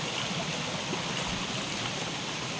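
Stream water swollen by rain rushes strongly in a continuous, dense roar close by, with no voices over it.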